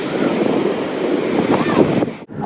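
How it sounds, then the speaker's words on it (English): Big ocean swell breaking along the Italian coast, a loud, continuous rush of surf mixed with heavy wind buffeting the microphone, cutting off abruptly near the end. "Big old swell that."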